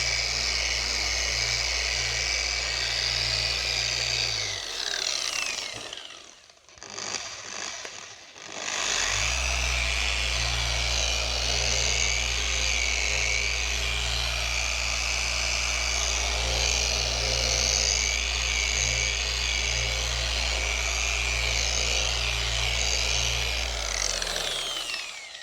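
Dual action machine polisher running steadily at close range, a loud continuous whirring drone that briefly cuts out and restarts midway, then carries on evenly to the end.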